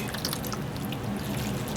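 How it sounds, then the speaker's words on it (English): Water pours steadily into garden seed trays during pre-planting, a continuous close trickle and splash that holds at an even level throughout, with no voices over it. "we'll start adding water here"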